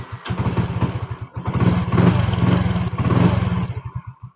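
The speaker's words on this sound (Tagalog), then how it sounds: "So ito, test natin kung maayos ang starter motor." A Yamaha Mio-i 125 scooter cranks on its starter motor, with rapid pulsing chugs, a pause, then the engine catches and runs with a throbbing idle before cutting off; close and loud.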